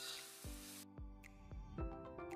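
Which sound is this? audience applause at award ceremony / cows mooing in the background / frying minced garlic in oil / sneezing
frying minced garlic in oil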